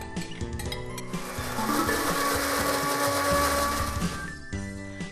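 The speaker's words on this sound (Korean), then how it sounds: "그 다음 바로 믹서에 넣어서 갈아줍니다." A kitchen blender runs continuously, grinding cooked rice that was simmered into a soft porridge into a thick paste; a loud, steady whir with churning texture holds for about four seconds before winding down.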